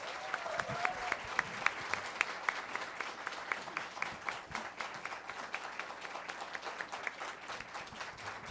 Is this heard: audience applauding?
yes